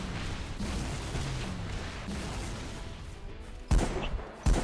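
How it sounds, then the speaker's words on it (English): The fuel rod cannon from Halo 3 fires in a burst of heavy blasts, with two sharp loud booms near the end that stand out over a rumbling background of battle noise. "Oh, real fuel rod cannon."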